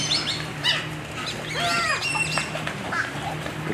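Garden birds gathering at feeding time at Flamingo Gardens in Davie, Florida, giving a busy mix of chirps, squawks and short calls close by over a steady background hum, with no voices heard.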